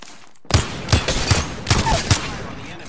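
Five sharp, evenly spaced shots from the G7 scout rifle in the video game Galvanize, each a loud, close crack with a short boom, fired at a steady semi-automatic pace.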